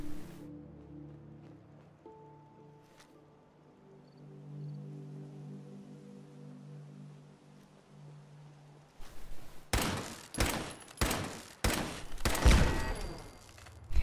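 A machine gun turret in Fallout 4 opens fire in several sharp, loud bursts of rapid shots near the end, after a stretch of quiet humming game ambience.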